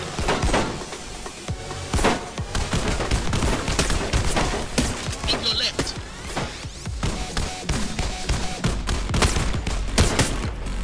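Rapid bursts of virtual gunfire from the HTC Vive VR game John Wick Chronicles, loud and dense with overlapping shots and impacts, nearly continuous for several seconds, with brief faint vocal sounds mixed in.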